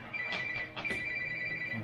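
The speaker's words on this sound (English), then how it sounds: "Obviously won't be able to get that phone call in time." A telephone rings in a garage while a windshield is fitted to a RZR UTV, a steady electronic tone held throughout with a few faint clanks and rustles alongside.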